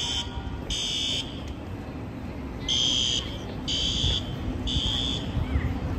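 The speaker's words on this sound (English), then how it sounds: "I think that fire alarm is not that serious." A fire alarm on a Manhattan street beeps in long, evenly spaced electronic bursts, repeating about four times over steady, loud city traffic rumble.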